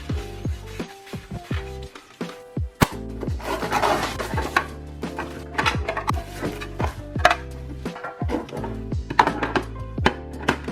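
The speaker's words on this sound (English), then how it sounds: "Giving the e-file a quick clean, as well as the handpiece" A nail e-file and its handpiece are wiped and handled at a nail studio station, giving repeated close scraping, rubbing and light clicking knocks in an uneven, busy rhythm for several seconds.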